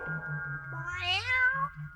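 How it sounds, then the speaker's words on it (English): A cartoon black cat from a 1975 Casper haunted-house tale lets out a single drawn-out meow, rising then falling, over a soft low musical background. "a little black cat walked across the path to my front door"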